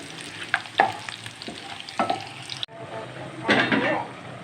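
Tadka frying in hot ghee for a chana dal fry: bursts of stirring and sizzling, with a sharp clatter midway and a louder surge of frying near the end, no talk.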